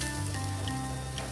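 Freshly grated coconut sizzles in hot ghee while being roasted for a simple Raksha Bandhan barfi, giving a soft, steady crackle with a faint background hum and no talking.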